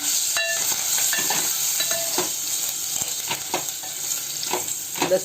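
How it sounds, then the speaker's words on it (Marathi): Garlic roasts in hot tempering oil for spicy dal, sizzling steadily while a spoon stirs and scrapes in repeated strokes, close up with no talking. "चांगलं लसूण आपण याच्यामध्ये भाजून घ्यायचे."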